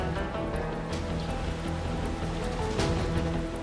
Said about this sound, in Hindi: बारिश भी नहीं रुक रही है।